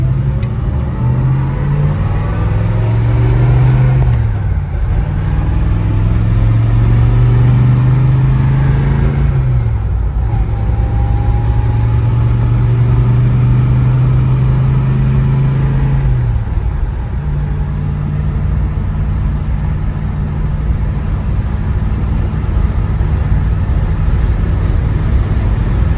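A 1967 Chevrolet Chevelle SS 396 V8 accelerates hard through its gears, the engine note climbing three times and dropping at each shift, loud and close throughout.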